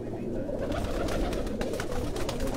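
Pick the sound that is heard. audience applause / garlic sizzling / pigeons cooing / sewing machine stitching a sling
pigeons cooing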